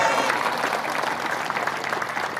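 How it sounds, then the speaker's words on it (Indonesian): Audience applause at an Indonesian religious lecture, a dense steady patter of many hands clapping throughout, loud and continuous with a faint crowd murmur underneath. "Tepuk tangan."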